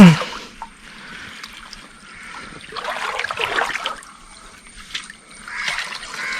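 Water splashes and trickles close by in a few bursts, a koi dropped into a pond with gentle sloshing between.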